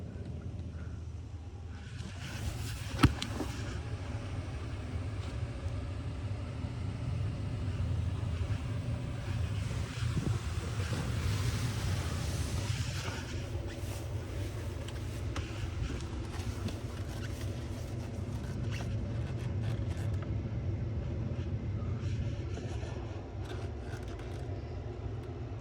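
An automatic car wash running over a truck in Mexico, Missouri: a continuous roar of sprayers and machinery, steady and fairly loud throughout, with one sharp click early on and no talking.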